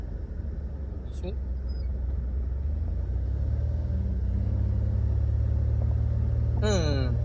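An old rocket-nose van rumbles steadily as it drives and swings through a bend, a continuous low engine drone, with a brief voice and a short whistling chirp near the end.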